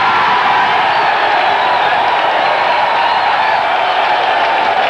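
A packed rugby league stadium crowd roars steadily after Brisbane score a try against Balmain in the 1982 KB Cup, a loud, dense, unbroken wash of cheering heard from a distance.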